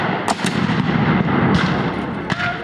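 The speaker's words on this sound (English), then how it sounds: "Union cannon began to bombard the Confederate trenches at 8 a.m. on June 27, 1864." A cannon bombardment of Civil War trenches: a loud rumbling barrage with several sharp booms standing out of a continuous roar, close and heavy, with no voices.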